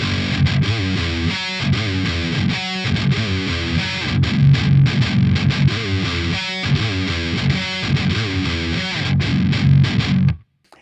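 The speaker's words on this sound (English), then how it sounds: "let's first hear it in humbucker mode" Baritone electric guitar with the pickup in humbucker mode, played through distortion with chunky, choppy low riffs broken by brief stops, loud and close, ending abruptly.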